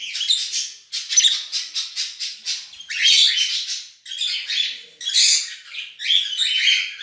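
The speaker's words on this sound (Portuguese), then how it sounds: "Agapornis" Lovebirds (Agapornis), breeding pairs including lutino and albino birds, give shrill, chirping calls in quick repeated bursts. The calls are close and fairly loud, with a few brief pauses between flurries.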